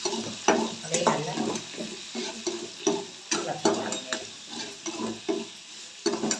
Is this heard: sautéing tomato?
yes